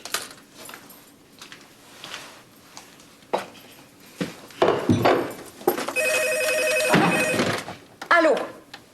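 A telephone rings in a home setting in a television drama, a sustained electronic ring in the middle following scattered thumps and handling noises, with a short voice near the end.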